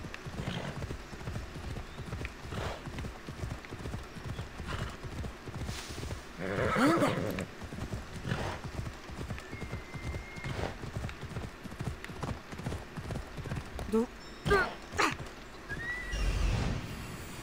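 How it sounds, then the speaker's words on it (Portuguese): A horse gallops in Assassin's Creed Odyssey, its rapid, even hoofbeats running steadily throughout. A short neigh breaks in midway, with faint ambient game sounds underneath. "Eu subo no meu cavalo e vambora."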